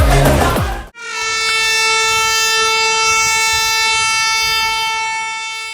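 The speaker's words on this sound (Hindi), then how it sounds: "देखिए हावड़ा राजधानी हमें ओवरटेक करने आ रही है एंड वो कर देगी ओवरटेक" New Delhi–Howrah Rajdhani Express overtaking on the rail line near Khurja Junction, with a brief rumble of passing cars, then a long, loud, steady multi-tone train horn sustained for several seconds close by.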